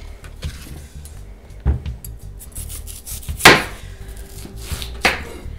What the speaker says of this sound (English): I just kind of slice the outer skin off